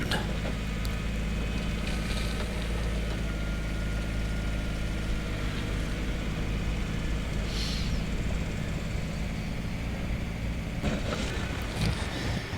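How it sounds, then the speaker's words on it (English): A small Kubota tractor works steadily nearby, its engine droning at a constant level while filling dirt into a trench over a pipe in a driveway. "we bring in the Kubota and fill the rest of it in"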